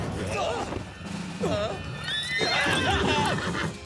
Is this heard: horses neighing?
yes